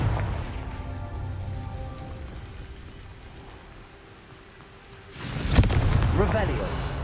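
A Confringo blasting spell explodes in the game Hogwarts Legacy, a loud broadband burst at about five seconds that rumbles on after a quieter stretch of low game ambience and a voice.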